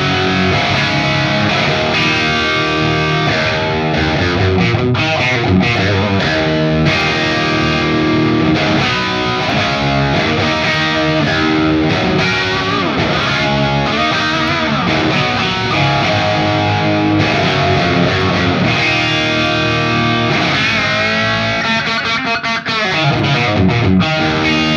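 Distorted electric guitar tones played through the Alta100 amplifier on its second and third channels, a dense, continuous stretch of chords and riffs with no talking.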